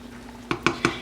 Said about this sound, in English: Now we're just going to stir it.